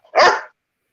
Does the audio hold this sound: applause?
no